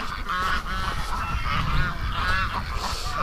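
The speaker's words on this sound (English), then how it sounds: "The ducks are playing in the water here" Waterfowl honk and quack in a noisy, overlapping chorus over a low rushing background, close and continuous.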